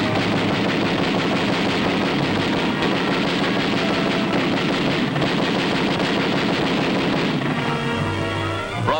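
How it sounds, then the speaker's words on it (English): Wartime jungle fighting with sustained artillery and machine gun fire, a dense continuous barrage of rapid bursts and booms, loud and close, with no talk. "Following in the wake of the artillery barrage, jungle fighters press forward, wiping out snipers and enemy pillboxes one by one."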